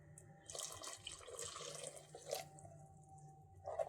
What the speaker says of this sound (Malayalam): ഇനി നമുക്കിതിലേക്ക് മിക്സിയും കൂടി ഒന്ന് കഴുകി ഒഴിച്ചു കൊടുക്കാം